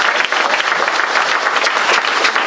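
A church congregation at an Easter service applauds steadily, with dense continuous clapping filling the room, loud and sustained throughout.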